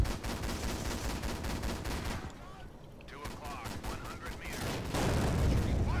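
Steady, rhythmic cannon or gun reports from a 2-pounder tank gun firing armor-piercing rounds in the WWII tank simulator Steel Fury, with repeated sharp shots and a brief quieter lull midway.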